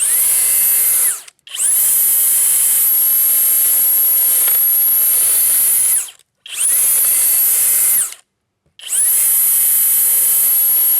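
A Flex power tool runs on its low speed setting, giving a loud, steady high-pitched motor whine in four long runs with brief stops between them, close up, with no talking.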